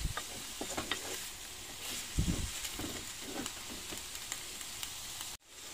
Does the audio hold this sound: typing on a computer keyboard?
no